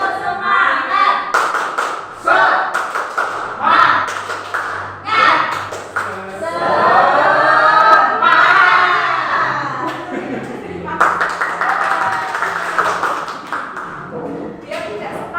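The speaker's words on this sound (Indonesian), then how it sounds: "Tepuk semangat." A group of people does a rhythmic spirit clap (tepuk semangat), loud bursts of clapping in a set pattern mixed with group chanting, pausing between rounds.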